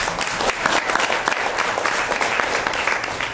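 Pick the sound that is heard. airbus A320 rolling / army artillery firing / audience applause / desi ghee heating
audience applause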